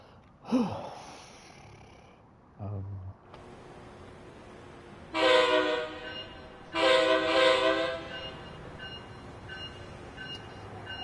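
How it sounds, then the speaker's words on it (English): An Acela American medium-speed train in Train Sim World 5 gives two loud, sustained horn blasts after some brief, scattered sounds, over a quiet rail background. "It's the American medium speed train"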